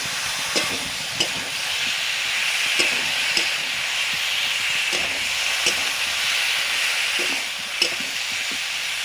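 Ground cumin and coriander paste with turmeric fries in hot oil, a steady close sizzle and hiss with a few sharp pops and stirring clicks scattered throughout, no voices.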